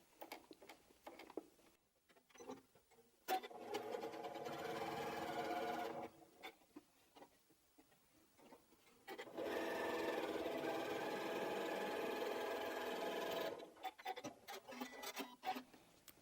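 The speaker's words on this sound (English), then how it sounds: "you can just chain piece them through, which is just where you just sew one after the other." Quilt blocks are chain pieced on a sewing machine, one after another. It runs in two steady stitching bursts of a few seconds each, with quiet handling and fabric rustle between them.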